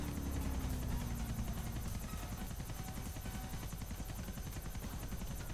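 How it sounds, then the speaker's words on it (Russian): Annihilator military helicopter in GTA Vice City, its rotor thumping in a steady rapid beat with a high turbine whine, loud and continuous throughout, with no talking. "вертолет"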